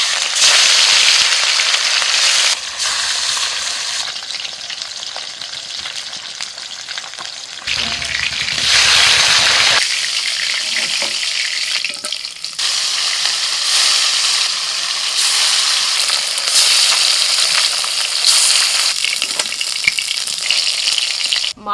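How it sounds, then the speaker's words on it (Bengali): Pieces of katla fish fry in hot mustard oil in a pan, giving a loud, steady crackling sizzle that swells and dips over about twenty seconds with no talking. "মাছ ভেজে নিই।"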